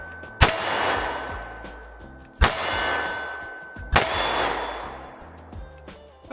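Three sharp pistol shots at even intervals from a Springfield Hellcat Pro Comp and a Canik Mete MC9 Prime, each with a ringing metallic clang that fades out.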